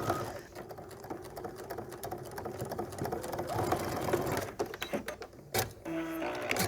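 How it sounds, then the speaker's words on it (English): A sewing machine stitches a quilt block seam with a close, rapid mechanical patter in short runs and brief pauses, then a few slower clicks near the end. "I'm going to stitch right up to that pin and jump over it, and then keep on sewing."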